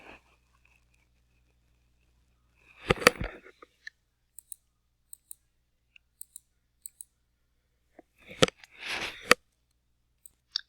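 Sharp, isolated mouse clicks spaced through a quiet stretch while working in Microsoft Access, with two brief louder bursts of other noise between them.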